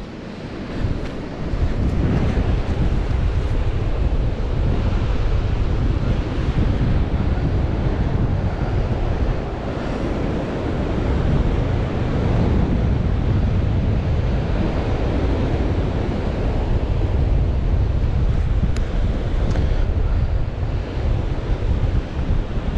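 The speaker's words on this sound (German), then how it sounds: "der Wind hat jetzt etwas zugenommen" Strong, steady wind buffets the microphone on a beach while paragliding at Praia dos Tomates, mixed with a continuous roar of surf, loud and unbroken throughout.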